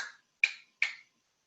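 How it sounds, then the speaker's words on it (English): Three sharp, bright pings a few tenths of a second apart as home canning jar lids seal, each a crisp metallic pop with a short ring, close and isolated in silence. "that is your lids sucking out the last of the air."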